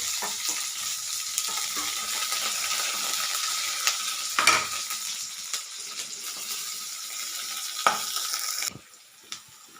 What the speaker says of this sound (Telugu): జీలకర్ర, బాగా వేయించుకోవాలి.